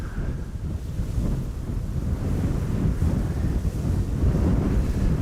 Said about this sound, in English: the wind is blowing from the west-southwest